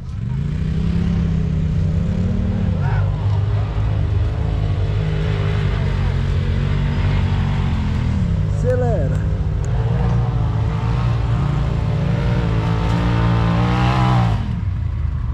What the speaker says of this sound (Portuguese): Acelera, João!